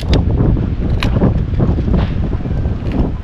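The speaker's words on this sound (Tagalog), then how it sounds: "Ayun, lakas ng hangin." Strong wind gusting across an outdoor spot where a boat is being repainted, a loud steady roar buffeting the microphone throughout with brief louder blasts.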